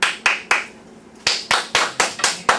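Crisp hand claps sound close and alone in a training session: three quick claps, a short pause, then six more at an even, steady beat.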